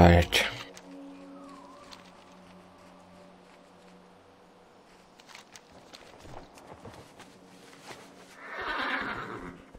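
A horse in World of Warcraft Legion whinnies loudly at the start, then hooves and footsteps patter softly amid game ambience, with a second burst of noise near the end; a person talks over part of it.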